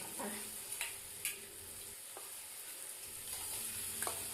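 A spatula stirs frying onion, garlic, turmeric, ginger paste and spices in a pan for soybean curry, giving soft, quiet scraping and a gentle sizzle with a few clinks.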